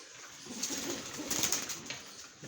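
Hyderabadi Nili pigeons coo softly and continuously at close range, with a low throaty murmur under a steady background hiss and no speech.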